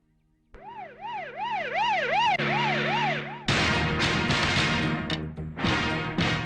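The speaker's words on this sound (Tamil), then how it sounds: "இந்த ஆம்புலன்ஸ் அடிக்கடி வருதே." An ambulance siren wails in a rising and falling cycle, then switches to a sharper, faster pattern, loud and close with passing traffic noise around it.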